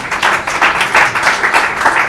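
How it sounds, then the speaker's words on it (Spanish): A dense burst of audience applause for a speaker at a science talk, loud and steady with a rippling texture through its short length. "Así que un aplauso para José Ángel y gracias por venir."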